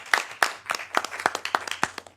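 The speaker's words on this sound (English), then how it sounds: "We'll clap." A few people clap for a speaker at an artificial intelligence for drug development talk, sparse distinct claps in an uneven rhythm, close and fairly quiet, with no crowd roar.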